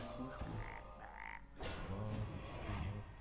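Frog croaking from a Hex spell in Hearthstone, a few short croaks standing out over a steady game background, moderately loud and close.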